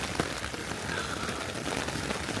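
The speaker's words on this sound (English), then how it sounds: "if this rain doesn't let up, I'm going to have to pack up in this rain" Rain patters on a tarp at a clifftop camp, a dense, even hiss with scattered sharper drop taps close by, steady and alone.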